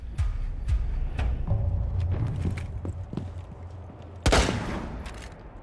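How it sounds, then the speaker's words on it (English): An explosion in Rainbow Six Siege arrives late as a sudden loud, dull burst after a run of scattered thumps and footstep-like knocks, then fades out. "Why was that explosion so, like, sounds so low quality?"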